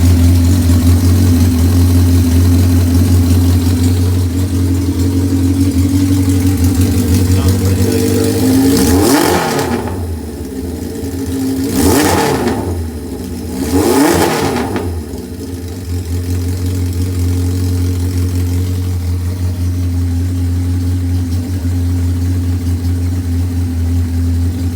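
A Honda CB550 motorcycle engine idles steadily and close by, broken by three sharp throttle revs in quick succession before it settles back to a smooth idle.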